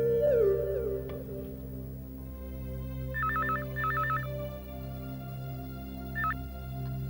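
A telephone rings in clear repeated trill bursts, two close together then a third after a pause, heard over a steady low hum in an indoor scene with no one speaking.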